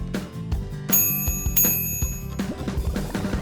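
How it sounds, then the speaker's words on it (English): A bright bell rings twice in a children's cartoon, clear metallic tones ringing out over bouncy background music before fading. "Oh, this is just a bell."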